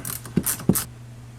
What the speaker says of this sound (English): I am just cranking on the center bolt, which will move both cables at the same time